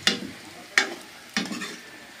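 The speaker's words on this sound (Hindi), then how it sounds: "अभी सोयाबीन भून रही है" Soybeans roasting in a pan in a home kitchen, heard as three separate scraping stirs about every 0.7 seconds over a quiet, faint sizzle, close by with no talking.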